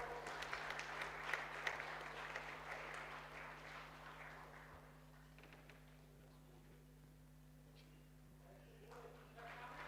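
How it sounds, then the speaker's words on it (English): An audience applauds at an architecture event honoring an architect on stage, a dense wash of clapping strongest in the first few seconds, then thinning and fading toward the end over a steady low hum. "Big round of applause for architect Rathore."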